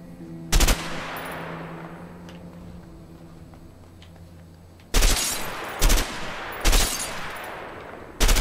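An M60 machine gun fires in the video game A Way Out, with loud, sharp bursts: one early, then four in quick succession toward the end. Each is followed by a ringing tail and a low hum between shots, with no speech.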